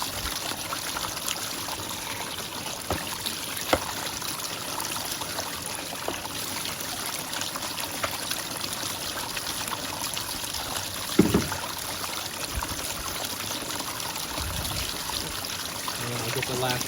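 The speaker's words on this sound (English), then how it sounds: "Get some back muddy water back in here." Muddy water poured into a gold pan at a sluicing setup, a continuous splashing trickle with one brief heavier slosh, heard fairly close against steady outdoor background.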